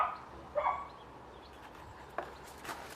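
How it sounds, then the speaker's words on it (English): A dog barks a few times at a distance in a vegetable garden, short sharp yaps spaced out against a quiet outdoor background. "Yeah, Daisy barking"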